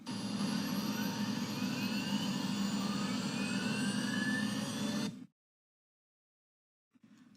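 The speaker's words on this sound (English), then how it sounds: "diagnose and analyze an electric motor and gearbox noise on a factory floor" An electric motor and gearbox run on a factory floor as a loud, steady whine with rising tonal sweeps over a low hum. After about five seconds it stops abruptly into near silence, and a faint hum returns briefly near the end.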